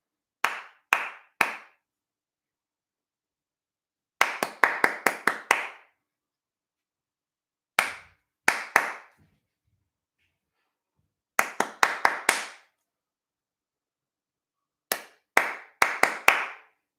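Crisp hand claps in short rhythmic groups, from two up to six quick claps per group, separated by silent pauses, close and loud, patterning a call-and-response singing game.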